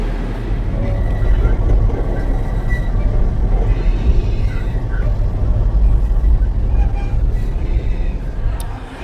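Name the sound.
express train riding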